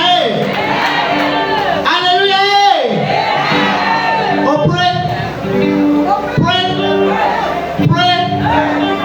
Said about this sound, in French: Accueillons les par vos acclamations.